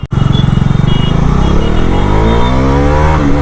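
A 2025 Bajaj Dominar 400 motorcycle pulls away under hard acceleration on a ride, its engine note loud and close, climbing steadily in pitch as the revs build after a brief dip at the start.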